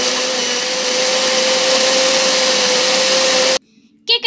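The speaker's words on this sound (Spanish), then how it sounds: "Y ahora vamos a llevarnos la licuadora a licuar." A blender whirs loudly and steadily while blending a mango mixture, a constant high motor whine that cuts off abruptly near the end, followed by brief quiet and a short clatter.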